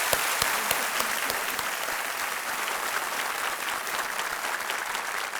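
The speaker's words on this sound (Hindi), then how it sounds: "एक बार फिर तालियां बज जाएं इनके लिए" Studio audience applause on the Indian quiz show Kaun Banega Crorepati for a woman contestant, a steady wash of many hands clapping at an even level for several seconds.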